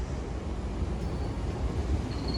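A train pulls out of Hillington West station in Glasgow, a steady low rumble and rolling rail noise with a faint high whine near the end, no talking.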